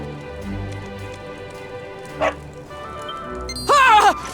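Dragon Quest 11 dog in the Downtown Heliodor area of the video game, giving a short bark and then a burst of loud yelping barks over steady background game music and ambience.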